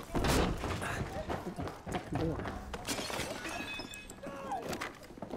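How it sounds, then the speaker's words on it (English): Hatchet strikes landing on players in a video game, a series of loud, sharp chopping and smashing impacts spread irregularly over several seconds, mixed with talk and other game noises. "Oh, the hatchet really does some damage."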